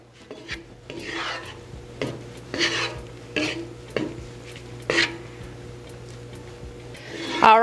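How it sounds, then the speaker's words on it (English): Fish being buried under nearly cooked jollof rice in a pot for Senegalese thieboudienne, with several scraping, rasping spoon strokes against rice and pot at irregular intervals over a low steady hum, fairly close. "now we're going to bury it with the jollof"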